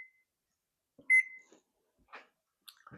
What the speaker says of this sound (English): And I'm going to set the timer for 25 minutes.